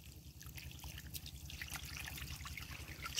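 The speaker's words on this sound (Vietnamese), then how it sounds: "Đấy, bây giờ xả nước nha các bạn." Water is gently flushed through a Dendrobium orchid pot to wash out old potting medium, a soft, close, continuous trickle and dribble.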